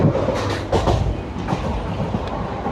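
A passenger train on the Kalka-Ambala line, entering the Chandigarh yard, rumbles steadily along the rails, its wheels giving irregular clickety-clack thumps over joints against a continuous low rolling roar heard from on board.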